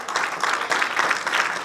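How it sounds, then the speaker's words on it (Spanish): A church congregation applauds steadily, dense clapping from a crowd filling the room at a constant, fairly loud level with no pauses. "Denle un aplauso a nuestro Dios."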